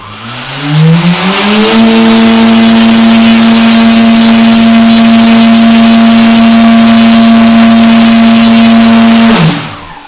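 A KDE5215XF-435 brushless motor under VESC control ramps quickly up to a loud, steady high-pitched whine, holds it for about eight seconds, then cuts off sharply.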